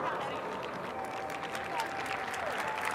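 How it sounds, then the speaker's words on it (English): Steady crowd applause fills a college women's basketball arena during Syracuse versus Georgia Tech, a continuous wash of clapping with faint talk mixed in. "Kristlyn Carr gets a nice round of applause."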